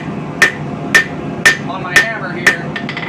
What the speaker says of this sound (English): So I'm just going to use the cross peen